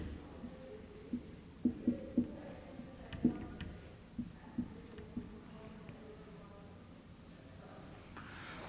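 A pen scratches and taps on paper in short, faint strokes while a graph of x cubed plus one is drawn, the marks coming in small irregular bursts against quiet room tone.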